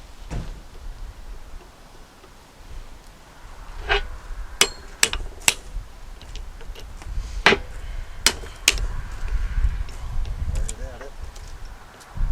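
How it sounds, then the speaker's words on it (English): A hammer drives a punch into a rusty New Holland 56/256 hay rake gearbox, with about a dozen sharp, irregular metallic strikes ringing out close up over low shop noise and some talk. "use a bigger hammer. Smaller punch."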